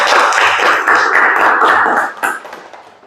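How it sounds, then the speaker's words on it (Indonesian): A classroom of students claps together in a dense burst of applause that fades out over a few seconds, and one or two last claps ring out near the end. "Kasih tepuk tangan."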